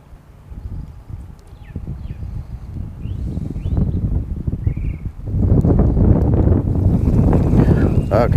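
Strong wind while fishing from a boat on open water, gusting microphone rumble that grows louder and rougher toward the end, with water splashes and faint bird-like calls mixed in.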